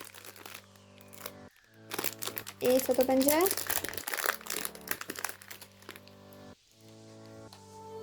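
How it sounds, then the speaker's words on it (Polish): Foil sachet from a Disney princess comics minis blind pack crinkles and rustles as scissors cut it open, crisp close handling sounds under a person speaking. "Bierzemy saszetkę, nożyczki."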